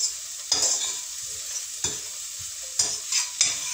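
Three chopped green peppers sizzle in a pan, a steady hiss broken by several sharp bursts of stirring and spatula scrapes.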